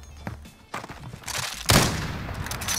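Gunfire from an AX50 sniper rifle in a video game 1v1 match: a single loud, sharp shot cracks out near the middle, with scattered quieter impacts and clatter before it and a lingering tail after.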